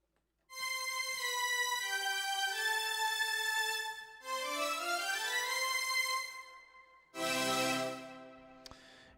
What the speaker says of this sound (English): Today we are going to be making a string ensemble patch.